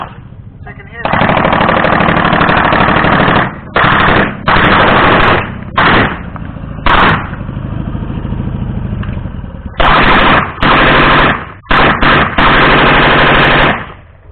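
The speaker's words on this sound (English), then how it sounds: "coming in at high speed with a machine gun" A machine gun at an Armed Forces Day display in Cornwall, firing several loud sustained bursts and short stutters separated by pauses, with a lower engine-like rumble and crowd noise between bursts.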